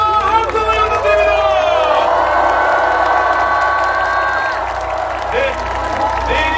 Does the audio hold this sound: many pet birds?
no